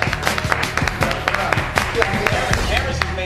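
A few people clap in scattered, uneven bursts close by, with voices talking over and between the claps throughout.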